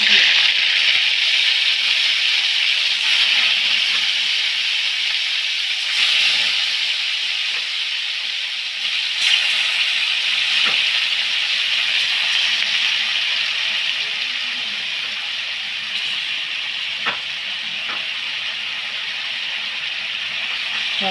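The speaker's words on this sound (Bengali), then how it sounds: "এবার তেল দিয়ে মাছগুলোকে আমি একটু ভেজে নেব।" Lote fish frying in hot oil in a wok, a steady broadband sizzle and hiss that carries on throughout, with a few brief crackles and pops.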